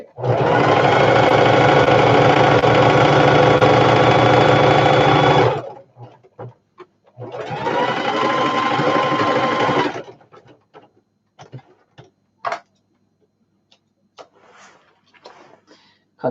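Sewing machine running double rows of stitching on a shoulder bag, a long steady whirring burst, a short pause, then a second shorter run, followed by faint scattered clicks and handling noises.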